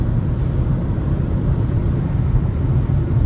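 Steady low engine drone of a Škoda Octavia 1.5 TSI 110 kW picking up speed downhill in two-cylinder mode, heard from inside the cabin as a continuous rumble with road noise and no talking.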